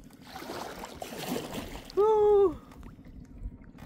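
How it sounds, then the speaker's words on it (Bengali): A rented kayak moves on a lake near Rangamati, with soft sloshing and gurgling water under murmured voices and a brief tonal squeal in the middle. "কায়াকিং করি।"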